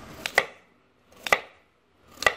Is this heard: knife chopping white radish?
yes